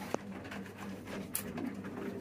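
Pigeons at a loft coo softly in low, murmuring calls, faint and a little distant against a quiet background.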